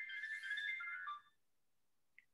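A mobile phone ringtone chimes briefly in a lecture room, a bright electronic melody lasting about a second before cutting off, followed by a single faint blip, with no talk over it.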